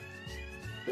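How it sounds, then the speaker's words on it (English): A fire alarm going off inside a studio, sounding as a steady, fairly loud tonal electronic beep with sustained pitched bands and low rumbling background, no voices over it. "Why was there a second fire alarm?"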